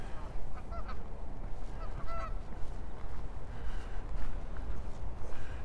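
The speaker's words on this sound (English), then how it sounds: "How about take a look at the flying goose?" Geese honk outdoors around a lake in Regina in early spring, several clear honks near the start and middle over a constant rough background rumble of wind and ambient noise.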